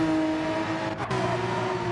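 Porsche race car in Fanta Racing livery, red and black, during a simulated Le Mans endurance race in a racing game: a steady, loud engine drone holding a sustained tone, with a brief dip as another car is let through.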